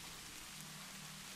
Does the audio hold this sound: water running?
no